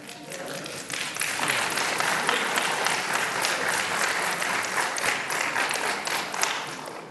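Audience applause fills a planning commission meeting room, a dense burst of clapping that swells after the first second and holds steady for several seconds with no talking over it.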